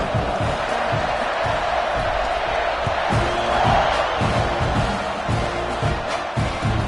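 Football stadium crowd before kickoff in the second quarter of a tied game, a broad steady roar of cheering and noise filling the whole stretch, with a slight swell midway.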